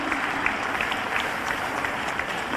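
An audience at an official award ceremony in Bhopal applauds steadily, a dense wash of clapping that holds at an even level for a few seconds.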